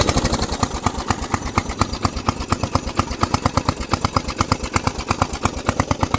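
A Briggs & Stratton small engine, its crank casting welded back together and its exhaust repaired, idles close by with a loud, rapid, even putter and no talk.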